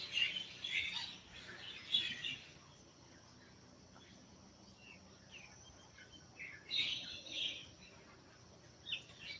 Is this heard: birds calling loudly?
yes